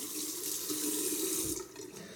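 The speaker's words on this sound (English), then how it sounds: "Just put the razor under the sink, under the water of the sink," Tap water runs steadily into a bathroom sink over a shaving razor, a soft close splashing stream that eases off near the end.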